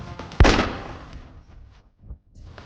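A single sharp gunshot fired at a target in a Tamil drama cracks out near the start and trails off into a fading echo, followed by faint low rumbles.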